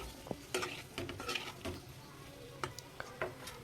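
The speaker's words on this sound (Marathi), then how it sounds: "आंबे टाकल्यानंतर या आंब्यांनासुद्धा छान असं परतून घ्यायचं आहे" Mango pieces sautéed with garlic in a pan, with soft scraping and stirring taps of a spoon against the pan and a faint sizzle underneath, quiet and close.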